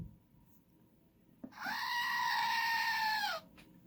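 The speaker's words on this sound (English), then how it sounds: "here we have a screaming goat." A screaming goat lets out one long, loud, sustained shriek lasting nearly two seconds, standing alone after a faint click, with no talk.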